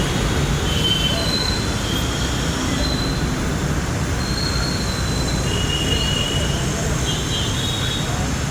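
A Hyderabad metro train runs on its rails with a constant loud rumble, and thin metallic wheel squeals rise and fade repeatedly over the din, heard from inside the carriage.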